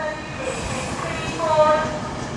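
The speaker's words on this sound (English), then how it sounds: "this is going to be the only freight train you get here as well" A Class 66 freight train passes through Birmingham International station on the West Coast Main Line, a steady rumble of rolling wagons with brief squealing tones, fairly close and continuous throughout.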